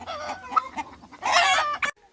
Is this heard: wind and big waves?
no